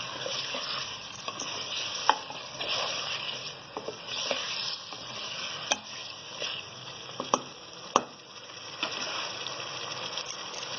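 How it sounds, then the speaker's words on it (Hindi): Potatoes and soya chunks frying in a pan, with a continuous close sizzle broken by scraping stirs and sharp utensil clicks against the pan, and no voices. "आलू को हम डाल के थोड़ा सा भून लेंगे अच्छे से"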